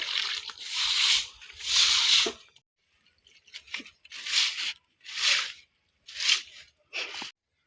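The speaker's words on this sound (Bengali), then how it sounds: "আমি এই যে বালতিতে গোবর গুলাই নিচ্ছি এবার এগুলো আমি নিচে ঢেলে দেব" Cow dung slurry poured and spread by hand over a kitchen floor, wet tearing and squishing smears in separate bursts with short silent gaps, close and fairly quiet.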